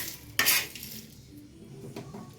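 A single close metallic clatter as dried chilies go onto a hot tawa griddle during spice roasting, followed by faint scraping and a quieter clink, with no talking.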